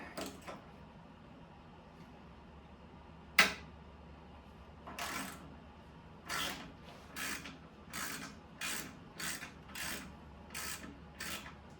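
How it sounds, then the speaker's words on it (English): Hand ratchet undoing a 10mm bolt on a Kawasaki ZX6R fuel tank in a quiet workshop; one sharp snap, then a series of short, evenly spaced clicking bursts, close and fairly faint. "Now I just have to undo that bolt that I told you about over here, and the tank should lift off."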